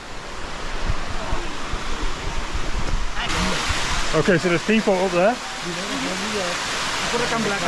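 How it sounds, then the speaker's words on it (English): Steady broadband rush of Tumpak Sewu Waterfall in East Java, Indonesia, fills the background throughout, with people talking nearby over it. "We can hear the waterfall, it's somewhere over that way."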